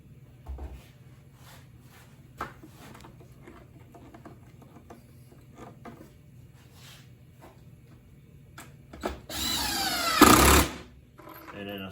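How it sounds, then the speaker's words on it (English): A drill with a Phillips bit drives screws into cypress wood for a bee box. Quiet handling and taps come first, then one loud close whirring run of the driver lasting about two seconds near the end. "And then I start putting the screws in."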